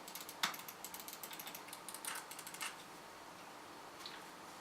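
Lexma mouse buttons clicking in a quick, faint run of sharp ticks, with a few more spaced clicks after a short pause.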